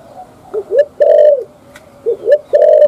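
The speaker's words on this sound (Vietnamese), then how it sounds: "con đang up là con chim cu máy" Spotted dove, a large Vietnamese 'cu máy' bird kept as a breeding pair, cooing in close, clear phrases: two repeated sequences of short rising notes ending in a longer drawn-out coo, alone with no talk.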